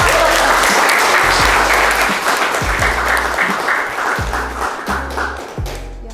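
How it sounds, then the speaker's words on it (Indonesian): Classroom audience clapping for two presenters, loud, close, brisk applause from a group, with low background music thumping in a regular beat beneath it. "beri tepuk tangan untuk kedua teman-teman"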